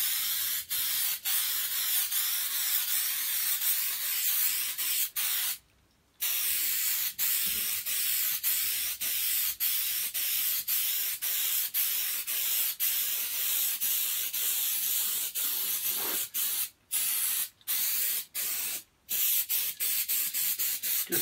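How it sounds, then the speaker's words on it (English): Long, steady hiss of spray adhesive from an aerosol can onto a canvas panel, running almost continuously with a few brief pauses and quick stops and restarts. "So I want to spray the panel and then the back of the canvas."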